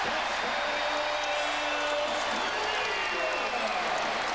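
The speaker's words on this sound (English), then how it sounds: "The crowd is rolling now, surging toward the court." A packed basketball arena crowd at a Miami Heat versus New York Knicks NBA game roars in a dense, continuous wall of cheering and noise, loud and steady throughout with no let-up.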